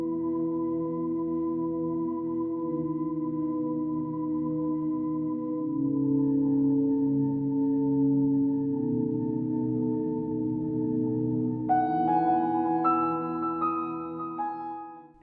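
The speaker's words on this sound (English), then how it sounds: "there's a lot more reverb in the piano with this one" Anime soundtrack music from Nagi no Asukara: sustained, heavily reverberant piano over soft pads, with bright bell-like vibraphone notes entering near the end, steady and unhurried with no voices.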